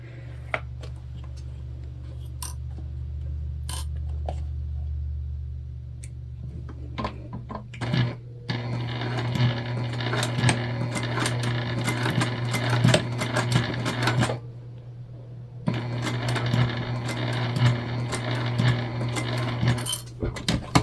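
Sewing machine top stitching a craft bag, a rapid mechanical clatter in two long bursts with a short pause between them, preceded by quieter handling clicks and a low hum.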